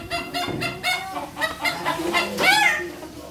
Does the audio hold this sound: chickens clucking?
yes